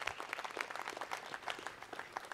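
Audience clapping for Surekha at a Christmas program, a steady crowd patter of many hands, moderately faint and somewhat distant, holding evenly for the whole stretch.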